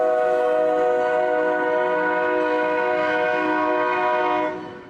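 An Essex Terminal Railway train whistle in South Walkerville blows one long, loud, steady chord-like blast that holds for about four and a half seconds before trailing off, with no voices.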